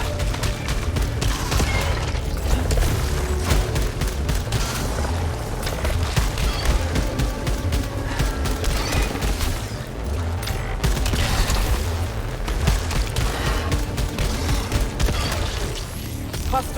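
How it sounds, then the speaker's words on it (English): Dense, continuous battle noise from a video game, with layered gunfire, mechanical clatter and low booms from explosions running steadily at high volume throughout, with no talking over it. "This is going to be interesting to see the gunfire coming towards me."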